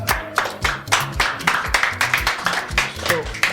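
Clapping hands from an audience at a comedy hangout show, bursts of claps under a man's speech and crowd noise, rhythmic and close.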